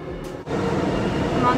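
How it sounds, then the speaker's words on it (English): Inside a subway car in Songdo, Incheon, a steady rumbling rush of the moving train fills the space, with a brief dip partway through before the roar resumes. "I'm on the subway right now,"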